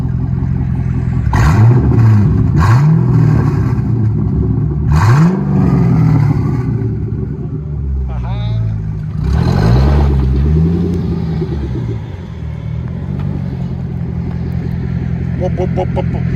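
A 2005 Chevrolet Corvette with a 6.0L V8 and Carven R Series dual exhaust idles loud and close with a deep rumble, blipping the throttle into several short revs, while people talk nearby.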